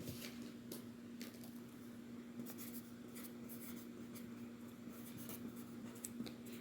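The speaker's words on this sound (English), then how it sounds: "let me write it by hand" A pen or chalk writes by hand during a mathematics lecture on Legendre differential equations, giving faint scratchy strokes and taps in an irregular rhythm over a steady low hum.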